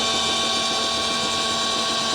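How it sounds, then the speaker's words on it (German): The pop-up roof of a Unicat expedition motorhome closing gives a steady, loud mechanical whir and hum with a tonal drone, continuous and close throughout. "das obere Hubdach wird jetzt geschlossen wieder"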